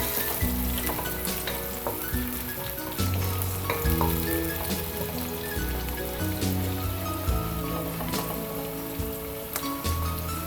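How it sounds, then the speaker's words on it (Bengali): Cardamom pods and cinnamon frying with onions in oil, a dense rain-like crackling sizzle broken by repeated scraping and knocking of a stirring spoon, close and steady with no voices. "চারটা পাঁচটার মতো এলাচ দিয়ে দিয়েছি পেঁয়াজের সাথেই এটা ভাজতে হবে"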